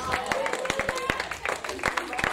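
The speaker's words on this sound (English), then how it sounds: "I said, clap for Jesus." A church congregation claps along in a worship service, sharp hand claps in an uneven rhythm mixed with voices and crowd noise, fairly loud and close.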